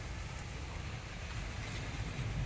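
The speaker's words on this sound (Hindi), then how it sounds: "लेकिन बारिश और आंधी बहुत तेज़ों से है" Heavy rain pours down in a strong windstorm, with trees swaying. It makes a steady, dense roar of rain and wind, loud and continuous, with no voices.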